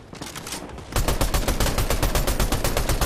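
Rapid automatic gunfire in Fortnite, a loud steady burst of evenly spaced shots that starts abruptly after a quieter moment and keeps going.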